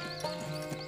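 Horses at a wagon camp neigh and whinny with a steady clip-clop of hooves, a couple of louder whinnies rising over the continuous stamping close by.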